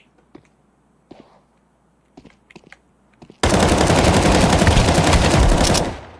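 Sustained burst of rapid automatic gunfire in Counter-Strike, loud and dense for about three seconds before cutting off, preceded by a few scattered clicks and shots.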